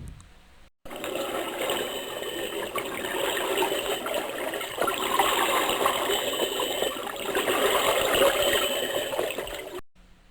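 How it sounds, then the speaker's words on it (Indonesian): Bathroom water tap left running late at night in a horror cartoon, a steady hissing flow with faint trickling that holds at a constant level for about nine seconds between short silences. "Lalu terdengar suara keran air di kamar mandi."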